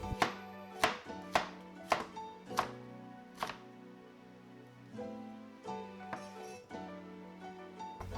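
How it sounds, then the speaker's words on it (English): A knife slicing a red pepper on a cutting board for Korean japchae, with a string of sharp, separate chops at a steady rhythm. The chopping is close and distinct, and a soft tonal hum runs underneath. "And just do medium-sized slice."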